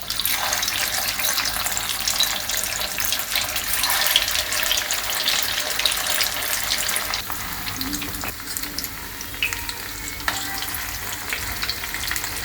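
Soybean chunk seekh kebabs frying in medium-hot oil in a wok, a steady loud sizzle and crackle throughout with occasional clinks of stirring.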